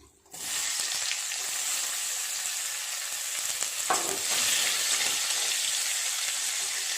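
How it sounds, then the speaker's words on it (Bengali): Chopped onion sizzling in a little hot oil with a dry red chilli and a bay leaf, a loud steady frying hiss that starts abruptly and continues throughout, with faint stirring scrapes partway through. "পেঁয়াজটা লাল লাল করে একটু ভাজা করে নেব।"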